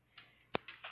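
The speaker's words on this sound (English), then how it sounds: "if you hear that clicking noises, that's just my dog walking around." Light clicks from a dog walking around indoors, probably claws tapping on a hard floor: a few faint, quiet ticks with one sharper click in the middle.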